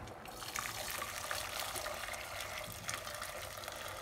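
Boiled water pours into a pot while making homemade limoncello, a continuous splashing liquid rush at close range, fairly soft and steady.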